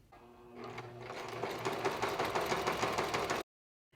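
A sewing machine runs steadily, stitching a continuous spiral line across a quilt with a fast, even mechanical chatter that builds up and then cuts off abruptly.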